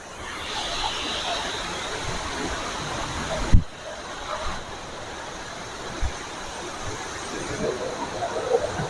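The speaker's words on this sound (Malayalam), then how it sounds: "പിന്നെ ഇവിടെയും വെള്ളച്ചാട്ടം കാണുന്നുണ്ട്. അതിന്റെ വേറൊരു ഒഴുക്കാണ് ഇവിടെ വന്ന് ചാടുന്നത്." Water from a forest waterfall in Pathanamthitta rushes in a steady broad wash, moderately near, with a few knocks and bumps from handling breaking through.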